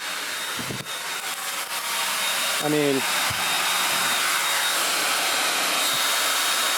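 A hairdryer drawing around 13 amps in an off-grid solar tiny home blows as a loud, steady broadband whoosh throughout, with a man's brief remark partway through.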